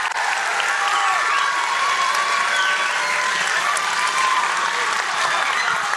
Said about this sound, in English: let's give our students a big round of applause because they're awesome